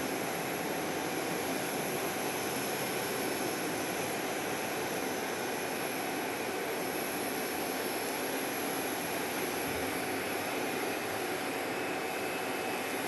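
A Southwest airliner lands on runway 8 at Phoenix Sky Harbor, giving a steady, broad jet roar that holds evenly throughout with no voices.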